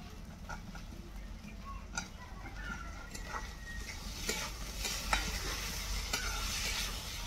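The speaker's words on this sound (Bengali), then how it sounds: "এখন আমি দিয়ে দেবো টমেটো আর কাঁচা লঙ্কা কাটা" Chopped tomatoes and green chillies tipped into masala frying in oil, giving a steady close sizzle with a few soft clicks and stirring scrapes, alone with no talk.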